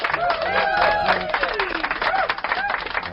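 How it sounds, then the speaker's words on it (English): Someone cheers and claps in a busy commentary booth at a mixed doubles curling provincial championship, with lively voices, applause and a crowd murmuring around. "That was an exuberant cheer from her."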